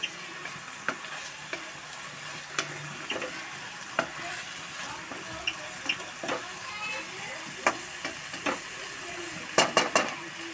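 Bitter gourd sautés in oil in a pan, a continuous soft sizzle punctuated by frequent sharp clicks and scrapes of a spoon stirring against the pan, loudest in a quick burst near the end.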